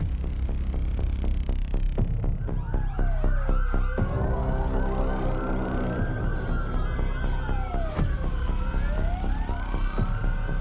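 Police and emergency vehicle sirens wail over one another as rescue crews, firefighters and police arrive at an incident scene, their rising and falling tones continuous, loud and close over a low throbbing hum.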